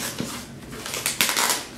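Paper wrapping on a mail package is torn in short, crinkly rips, a few quick crackling tears close to the listener, with no talking.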